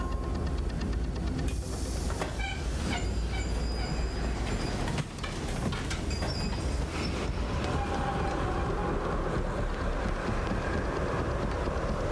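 A train rumbles steadily with hissing and metallic wheel squeals rising over a constant loud roar, in a Batman Begins film scene on the Gotham train.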